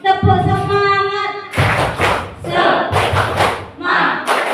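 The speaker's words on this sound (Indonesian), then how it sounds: "Tepuk semangat." A group repeats the 'tepuk semangat' clapping routine, with a drawn-out voice followed by several loud, rhythmic bursts of claps and shouts from the crowd.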